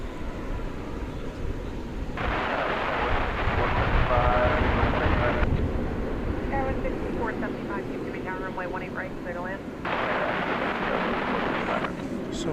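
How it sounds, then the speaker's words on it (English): A Rockwell Jet Prop Commander turboprop passes near DFW Airport, producing a steady broadband engine roar that swells and eases over several seconds, with voices talking faintly over it. "So a Rockwell jet prop Commander. I can hear it."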